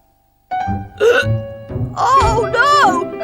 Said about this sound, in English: Now I've got hiccups too! Hick! Hick! I must have caught them off Peter!